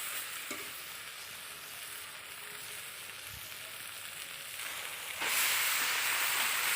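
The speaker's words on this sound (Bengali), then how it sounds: "দেখো এবার আমি দিয়ে দেবো সেই কচু সিদ্ধটা দিয়ে দেবো" Boiled taro goes into a pan of fried prawn masala, setting off a steady, moderately loud sizzle of frying that brightens and intensifies near the end, with no talking.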